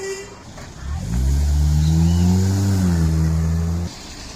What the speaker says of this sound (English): Another safe ride right there via taxi.